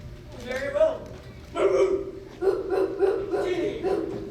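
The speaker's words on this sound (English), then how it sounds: "My dog Rufus is outside." A dog barks and yelps in several bursts with short gaps, close and fairly loud, and faint human sounds are mixed in.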